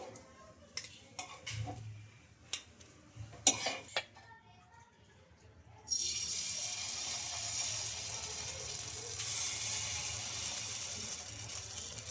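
Cooked semolina snacks lifted from a pan onto a plate, a few sharp scraping and clinking utensil knocks, then a steady sizzle of oil in a hot pan takes over.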